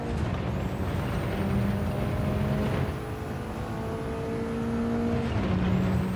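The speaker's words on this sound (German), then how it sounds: "entweder ich bin noch weit vom Limit entfernt oder das Auto fährt sich echt super angenehm" Mitsubishi Lancer Evo 9 driven in the racing game Gran Turismo 7: a steady engine drone rising and falling in pitch through gear changes, constant and close, with road and tyre noise beneath.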